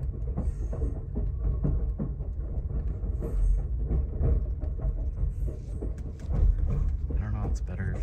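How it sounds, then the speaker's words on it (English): Steady low rumble and rattle of a moving night train departing St. Paul Union Depot, heard from inside a carriage, with someone talking over it. "We are on the train, folks."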